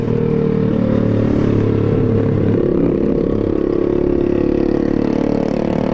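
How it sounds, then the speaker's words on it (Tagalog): A nearby motorcycle engine runs with a loud, steady, rumbling drone and rattling clatter throughout, no talk. "Maingay masyado yung motor niya."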